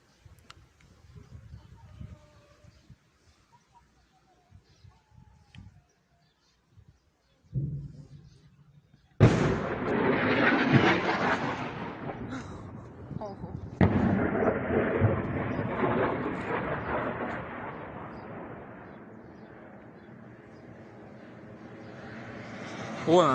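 An artillery barrage shelling a city in Donetsk booms and rumbles in long, heavy rolling blasts at a distance, following a quiet stretch with faint voices, the roar sustained and swelling for many seconds.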